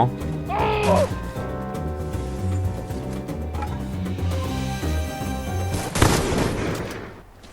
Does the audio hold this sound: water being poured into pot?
no